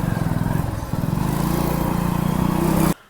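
A motorcycle engine putters with a rapid, steady thump, holding close and loud for about three seconds before cutting off abruptly.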